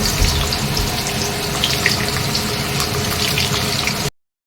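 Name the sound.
papad and potatoes frying in oil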